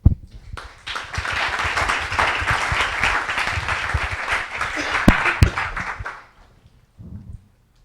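An evening roundtable audience applauds to welcome guests, a dense, steady burst of clapping lasting several seconds before fading out, with a voice speaking faintly near the end.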